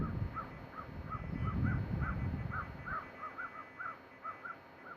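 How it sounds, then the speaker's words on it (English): A crow caws repeatedly outdoors, a steady run of about a dozen short, evenly spaced calls at moderate distance over low rumbling background noise during gun dog handling training. "That crow making noise had her peeking that way."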